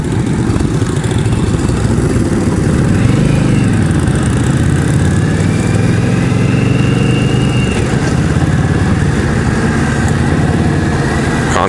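An Indian Scout motorcycle on the road heading onto an interstate, its engine droning steadily and loudly throughout with rushing wind noise, no talking.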